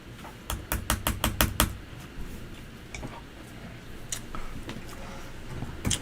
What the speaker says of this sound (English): I typed hard on my keyboard.